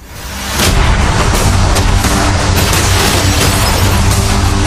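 Cannons firing cannonballs at a yacht, a sudden loud boom that swells into a sustained roaring barrage of blasts and crashes, close and heavy, with no talk.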